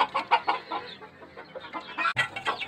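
A rooster with somewhat ragged feathers, sire of Brown Red gamefowl on a farm, clucks in a close series of short rhythmic calls, alone without talk.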